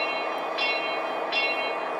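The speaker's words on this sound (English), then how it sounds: "as you can hear the engine running. And we've got things like horns or bells." Model train locomotive sound effect from a Bluerail app, a steady electronic engine hum with two brief bell-like chimes, moderately loud and even throughout, with no voices.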